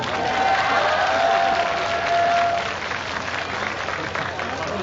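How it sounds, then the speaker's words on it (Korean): An audience at a squash coach's gathering applauds a performer, a steady wash of clapping with a brief tone above it, easing slightly toward the end. "박수 한번 주세요."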